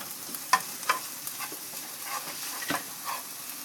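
Onions sizzle in a pan with ginger garlic paste as a spoon stirs, giving a soft steady hiss broken by a few light scraping clicks, close and fairly quiet.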